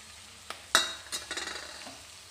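Cooked rice being stirred and fried in a pan for tomato rice, with a few sharp scrapes and clatters of a spoon followed by a light sizzle, close and alone.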